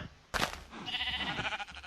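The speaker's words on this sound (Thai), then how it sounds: "แล้วก็มีแพะ" A goat in the Minecraft video game gives a sudden close bleat followed by a wavering, drawn-out second cry, fairly quiet overall.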